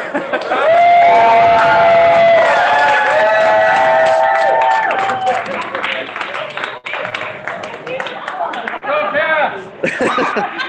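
At an election-night gathering, a crowd cheers and claps loudly, with whoops, shouts and laughter mixed into the applause. The noise swells early, then thins into scattered voices and claps.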